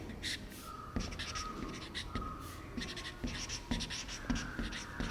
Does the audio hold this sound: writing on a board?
yes